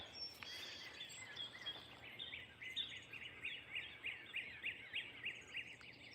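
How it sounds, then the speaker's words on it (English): Several birds chirp and sing at dawn, around 5:36, in repeated short phrases, faint and distant, over a quiet background hum. "So it's only 5:36 and those birds are going at it."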